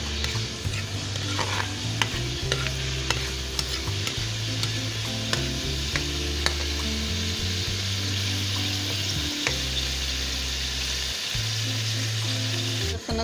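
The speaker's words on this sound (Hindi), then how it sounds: "लहसुन अदरक फ्राई हो गया," Garlic and ginger paste frying in a pan for sarson ka saag, a steady close sizzle broken by frequent scraping stirs and clinks of a utensil against the pan, with no talking.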